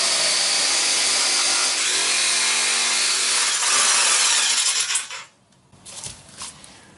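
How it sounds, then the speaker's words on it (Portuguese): A hand saw rasps back and forth through the wood of a guitar headstock being reshaped from Telecaster to Stratocaster style, loud and close in steady strokes for about five seconds, then a few softer scrapes as the cutting stops. "de uma forma meio rápida com a serra, e depois eu vou acertar com outra ferramenta"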